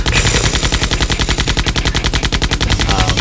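Small camera turrets open fire in a tabletop RPG sound effect: loud, rapid, evenly spaced automatic shots run continuously throughout.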